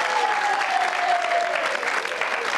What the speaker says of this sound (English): A small round of applause for the syllabub.